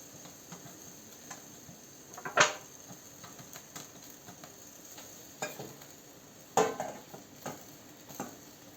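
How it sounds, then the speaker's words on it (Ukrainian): Beetroot sizzles softly in a frying pan, a faint steady fry broken by two sharper clinks of a utensil against the pan and a few lighter stirring taps. "А тут кладемо ще цей бурак. Трошки його підсмажити."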